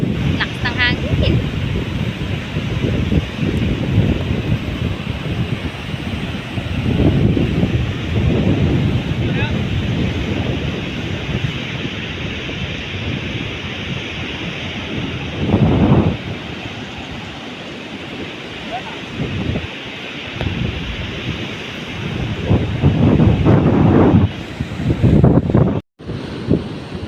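Strong wind roars across the microphone over a rough, surging sea, a steady loud rush with gusty swells and surf, and a few voices faintly under it.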